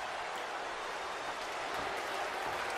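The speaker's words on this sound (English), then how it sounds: "You can hear a standing ovation for both Dolph and Ryback" Wrestling crowd noise in the WWE 2K14 video game: a continuous, even wash of applause and cheering from a large arena audience, steady and moderately distant with no individual voices standing out.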